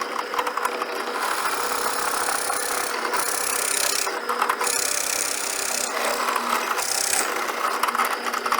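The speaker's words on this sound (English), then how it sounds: "I'll drill a hole which will take a half moon shape" A power drill whines steadily as it bores into wood, rising in pitch in a few surges, with gritty chewing noise throughout.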